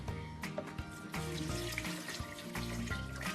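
Water pours steadily into a cooking pot holding onions, carrots, garlic, shallot and peppercorns, a faint continuous trickle with light splashing over soft background music.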